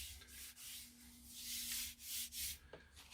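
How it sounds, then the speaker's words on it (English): A pad rubbing down primer on a car door mirror cover, a soft continuous sanding scrape in short back-and-forth strokes, close and fairly quiet, with a faint steady hum underneath. "Just give it a quick rub over that primer just to sort of denib it, just to get it nice and smooth."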